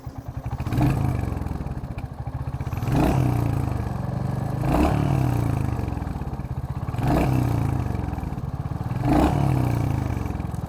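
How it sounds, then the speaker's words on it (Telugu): A Royal Enfield Hunter 350 motorcycle idles nearby with a steady, low thumping exhaust beat that swells gently about every two seconds, with no voices over it. "సో ఇది ఐడ్లింగ్లో ఎగ్జాస్ట్ నోట్."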